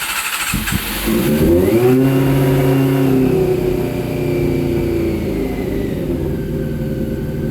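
A barn-find Honda CBR600 motorcycle engine runs cold at a high idle with no choke, a steady loud droning hum that rises briefly near the start, then holds an even pitch.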